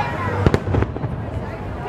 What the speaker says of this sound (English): The fireworks have started, guys.